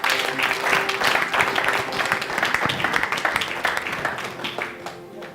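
Clapping and cheering from a congregation acclaiming the Lord at a prophetic miracle night service, a dense burst of applause with voices mixed in that slowly tapers off toward the end.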